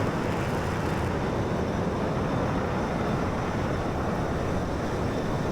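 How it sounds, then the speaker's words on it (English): Jet engine roar from a flight simulator game during a virtual air combat event with Hornet aircraft, a loud, steady, broadband rush that continues without a break. "Beautiful sounds for beautiful airplanes."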